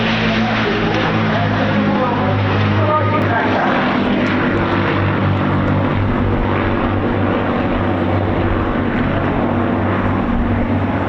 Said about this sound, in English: One of the most famous and successful Royal Air Force heavy bombers of World War II.